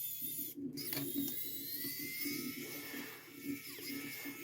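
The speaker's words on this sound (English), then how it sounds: "This is just an electric screwdriver that I bought." An electric screwdriver whirs steadily and close by during a front fork installation on a Rekon 4 bike, its motor buzzing in a continuous pulsing drone with a brief break partway through.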